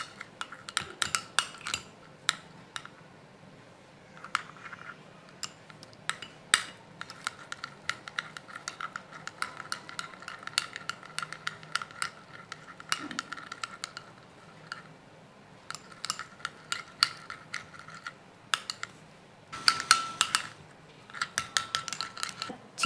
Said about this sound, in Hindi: अब इसको अच्छी तरह से मिक्स कर लें आप।